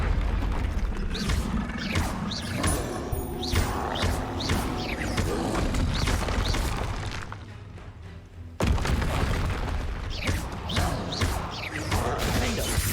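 Spell explosions like Bombarda and Confringo in the game Hogwarts Legacy: repeated booming blasts and crashing impacts with debris, a brief lull, then another burst of heavy bangs, all loud and close.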